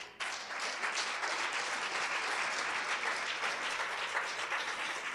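Steady applause from a church congregation during a Sunday service, dense and sustained clapping filling the room from start to finish with no voices above it.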